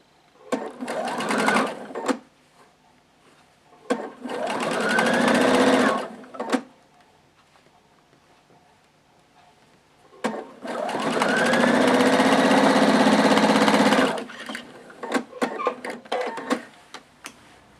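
A sewing machine stitches a quilt seam while assembling a Seven Sisters quilt block. It runs in three separate bursts, with the longest near the end, and light clicks fill the pauses between them. Nobody speaks.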